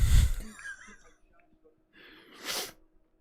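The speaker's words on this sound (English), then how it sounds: "Here comes a sneeze." One sharp, close sneeze bursts out at the start, followed by a faint breathy sound and then a brief, softer exhalation.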